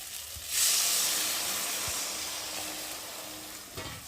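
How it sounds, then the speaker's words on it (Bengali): Water poured into sizzling spice paste in hot oil for a Bengali parshe fish curry, a loud burst of steamy hissing that settles into a steady sizzle for a few seconds before a clatter at the end. "আর এখন আমি জল দিয়ে দেবো"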